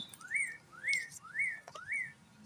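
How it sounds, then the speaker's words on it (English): A bird sings four evenly spaced rising whistled notes, each about half a second apart, fairly close and clear over a faint low background hum, with no talking. "You hear that bird?"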